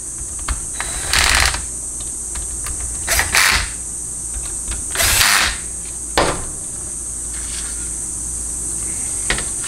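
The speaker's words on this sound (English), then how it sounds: "cinch everything down with an impact." Impact wrench cinching down valve body bolts on a Jeep A904 transmission, heard as several short loud rattling bursts over a steady high-pitched background hum, close by, with no talking.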